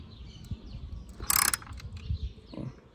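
A wrench clicks on a valve cover bolt of a Ford Focus 2.0 Duratec 16v, giving a short close burst of ratcheting mid-clip among faint scattered knocks and handling noises.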